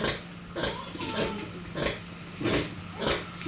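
Piglets grunt and squeal in repeated short bursts while nursing at a sow's teats, close by, with a low background hum.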